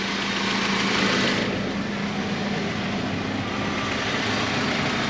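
A BMW engine idles after an oxygen sensor replacement, a steady, smooth mid-pitched hum with a faint ticking texture, close and continuous with no talk.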